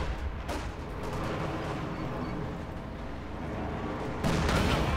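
Tank gunfire in Company of Heroes 2 as a Panzer meets a Jackson at point-blank range, with dense, continuous booming battle noise and loud shots throughout.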